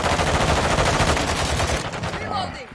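Rapid automatic fire from an assault rifle in a video game rattles in a dense, loud, continuous burst, then tapers off as faint tones ring out near the end.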